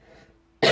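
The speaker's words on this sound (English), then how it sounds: "I'm still not all the way better, so I might be coughing." A single sharp, loud cough from someone still recovering from an illness, bursting out suddenly near the end after a quiet stretch.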